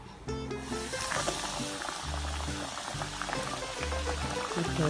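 Chicken pieces deep-frying in hot oil, a dense, continuous bubbling crackle close by with steady intensity and faint background music underneath.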